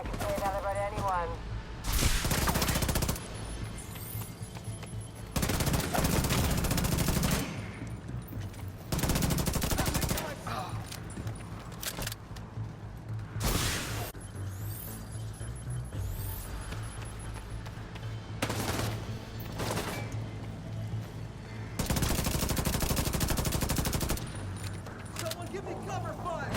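Gunfire in The Division 2 rings out in repeated loud bursts of automatic fire broken by short pauses, with voices talking between and over the shooting.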